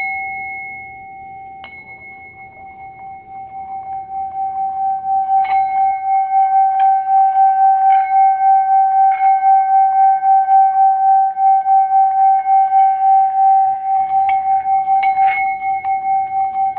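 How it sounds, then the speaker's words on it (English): A singing bowl rings out with a steady, sustained resonant tone that swells and holds for several seconds, with faint soft taps and clinks over the hum. "I'll resonate my singing bowl for a brief moment"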